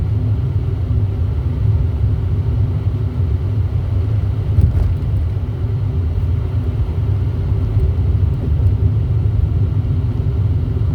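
Steady low road rumble fills the cabin of a car driving through heavy city traffic, continuous and loud throughout with no speech and only faint ticks above the drone.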